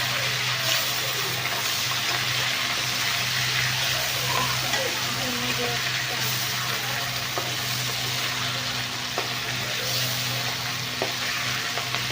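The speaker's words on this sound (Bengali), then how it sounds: "ইলিশ মাছটা হালকা করে ভাজবো, এটা একটু রান্না করতে হয়" Pieces of soft hilsa fish fry lightly in a pan with a constant, close hiss of hot oil and a few faint scrapes and clicks, with no talking.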